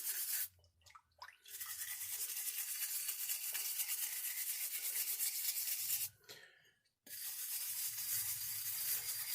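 A rusty tool soaked in vinegar is scrubbed by hand, close, steady abrasive brushing strokes that pause twice before starting again.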